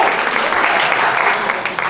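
Audience at a Caribbean Mastermind event in Puerto Rico gives a round of applause, a dense steady clatter of many hands clapping for about two seconds.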